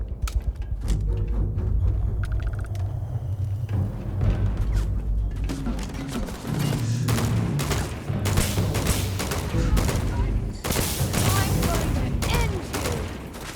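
Rapid bursts of gunfire and heavy booming grenade-launcher blasts from combat in the video game Starfield, a dense loud fusillade continuing throughout with brief lulls and crackling impacts.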